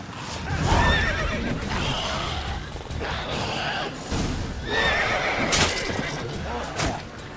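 A horse in The Witcher 3 gives a loud, drawn-out whinny over busy game sounds and hoof clatter, with a sharper burst near the end.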